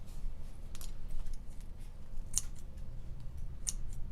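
Scissors snipping through fabric while cutting strips for a chindi rag rug, a few quiet crisp snips spaced out over a low steady background hum.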